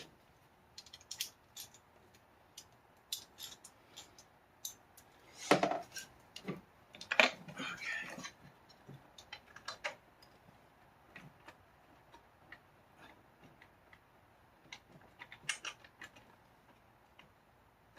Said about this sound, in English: now I'm going to tighten up those 10 millimeter